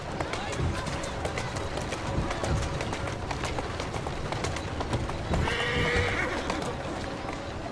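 In a video game, a horse whinnies over steady clip-clopping hooves and outdoor ambience, with a voice speaking intermittently.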